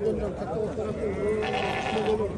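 Lambs bleat at a sheep and livestock bazaar in a few wavering cries, close by and mixed in with people talking and the general crowd noise.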